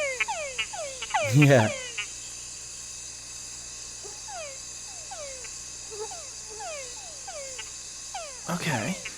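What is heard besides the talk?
frog croaking, laser beam frog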